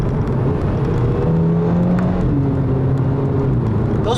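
A 2008 Volkswagen GTI with a DSG gearbox accelerating, its engine droning steadily with rising and shifting tones and a few brief exhaust pops, loud and continuous with no talking.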